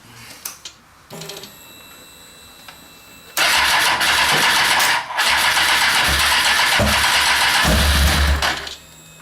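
A Kawasaki ZX-10 motorcycle engine cranks, catches and settles into a loud steady running drone, with quieter clicks and starter attempts before it fires, no talking.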